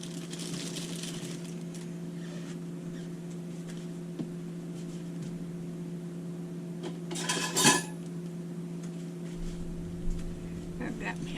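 Spoon and dishes clink now and then while a roast beef sandwich is assembled in a kitchen, sparse light knocks and one brief clatter over a steady low appliance hum.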